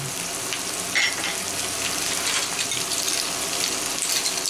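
Garlic sizzling in a pan of bouillon for brisket enchiladas: continuous crackling frying with a watery hiss and light stirring, close and steady with no talking.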